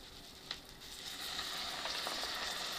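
Spiced masala for a Bengali steamed loitta fish curry sizzles and hisses steadily in a pan after a splash of water, a soft broadband fry noise that swells slightly and holds, with one brief clink early on.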